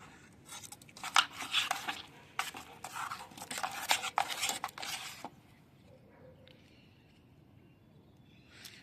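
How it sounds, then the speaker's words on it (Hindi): Henna (mehndi) paste, mixed overnight, is stirred vigorously in a bowl, giving a close run of wet scraping and swishing strokes that then stops, leaving quiet room sound with a faint clink. "चलो मैं एक बार इसको अच्छे से मिक्स कर लूँ।"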